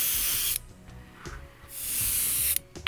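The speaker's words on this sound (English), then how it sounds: "Then another seal with matte varnish." Two close, loud hissing bursts of aerosol spray, each lasting about half a second to a second, coat a model electric locomotive with matte varnish sealant, with a short quiet gap and a small click between them.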